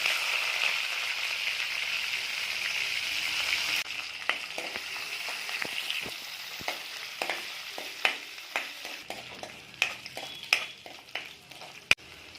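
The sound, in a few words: dried anchovies (netthallu) frying in oil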